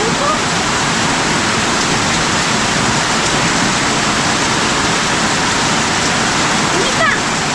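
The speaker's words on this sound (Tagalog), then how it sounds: "Lakas mo ng ulan." Heavy rain pours down steadily and loudly, a dense continuous roar close by, with voices speaking briefly over it.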